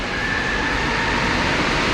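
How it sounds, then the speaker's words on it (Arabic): A subway metro train running, a loud, steady roar of wheels and motors with a faint whine, continuous and close, with no talking. "الصداع تاع المترو"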